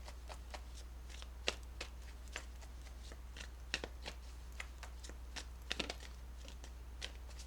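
Tarot cards are shuffled by hand in soft, repeated riffles and taps, quiet and close, with scattered sharper snaps over a low steady hum.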